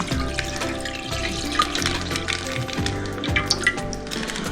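Milk pouring into a pot for palada payasam, a continuous liquid stream with splashing and light clinks against the vessel, fairly loud and close, no talking.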